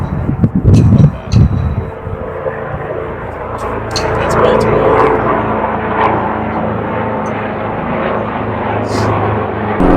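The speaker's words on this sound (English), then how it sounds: "And there's a helicopter." A helicopter flies over a Baltimore trail, its rotor and engine drone rising to a steady, moderately loud rumble, heard while someone speaks briefly and board wheels roll.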